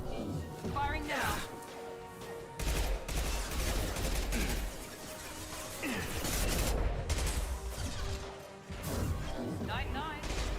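Gunfire in the Mass Effect 2 Legendary Edition sci-fi shooter, repeated bursts and crashing impacts in a chaotic firefight, with voices speaking over the shooting.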